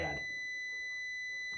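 A steady high electronic beep from a faulty Q50 transistor on a Supersonic pinball machine board holds as a continuous tone, with a brief burst of clicking and noise at the start and a soft thump near the end.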